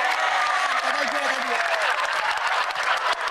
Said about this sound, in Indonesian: tepuk tangan yang meriah untuk Roma Irama